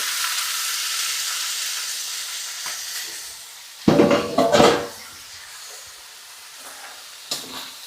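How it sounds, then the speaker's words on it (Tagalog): Squash and smoked fish sautéing in a pan, a steady broadband sizzle running throughout, with a louder burst of stirring and clatter midway and a brief scrape near the end. "So, gigisa na rin muna natin tong kalabasa"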